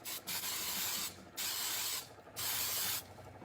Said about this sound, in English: I'm going to give it one more good spray